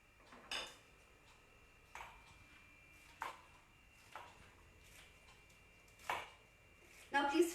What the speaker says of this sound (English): I'm going to take 3 pan leaves. Please use meetha pan, and I'm going to cut them into smaller pieces and grind them.